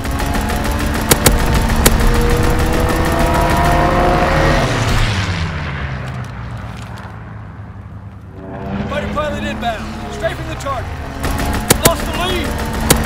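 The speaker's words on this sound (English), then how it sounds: "Fighter pilot inbound. Strafing the target." A fighter plane makes a strafing run in Call of Duty: WWII, with a loud engine roar swelling and then fading, surrounded by bursts of gunfire and explosions and overlaid by game voice lines.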